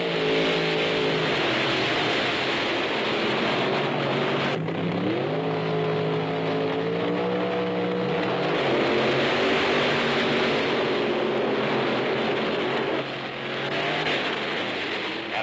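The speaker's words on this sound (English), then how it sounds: "When the car fires, you're ready to go." A drag racing car engine roars loud and close, revving in rising and falling sweeps with a harsh, sustained mechanical tone and a brief dip in the middle, with no voices.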